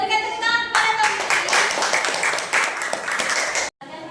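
Audience applause for Tommy during a school teaching session, loud and dense clapping that starts suddenly, holds steady for about three seconds and then cuts off abruptly.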